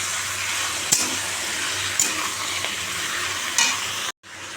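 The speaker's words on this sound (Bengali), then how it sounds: "পেঁয়াজটা লাল করে ভেজে নিয়েছি, এবার মাংসটা দিয়ে দিয়েছি" Meat frying with browned onions in a pan, a dense steady sizzle broken by three sharp spatula knocks, cutting off abruptly near the end before resuming.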